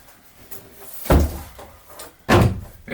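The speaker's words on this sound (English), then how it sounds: "So I made this door." A homemade sound-blocking door in a basement workshop thuds shut twice, each close, heavy bang followed by a brief rattle, spaced about a second apart.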